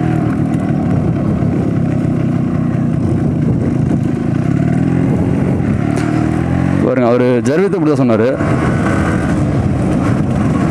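A Yamaha RX135 two-stroke motorcycle engine with a choke problem runs loud and close throughout, droning steadily with a rough buzzing edge; someone talks briefly over it near the end.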